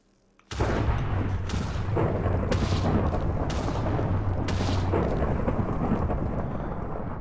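A Minecraft lightning strike from an Obsidian Battle Axe cracks in suddenly and rolls into a loud, sustained thunder rumble over a steady rain-like hiss, with no voices.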